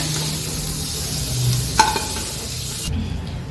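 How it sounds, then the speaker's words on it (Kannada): Spices crackling in hot oil as a tempering for palak paneer, with a loud sizzle and stirring scrapes, one sharp clink midway, and the hiss dropping away near the end. "ಇದಕ್ಕೇನೆ ನಾನು ಒಗ್ಗರಣೆ ಹಾಕೊಂಡ್ಬಿಡ್ತೀನಿ ಇವಾಗ"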